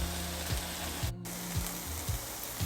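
Spinach cooking down in a pan gives a steady, close frying sizzle. Faint regular stirring sounds run through it, and no one speaks.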